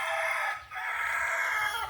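A rooster crows loudly on a game farm, a sustained bright call with a short break near the middle, close by and alone without talk.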